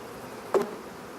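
Honeybees stir during a spring hive inspection, giving a single brief, close buzzing burst over a faint steady background.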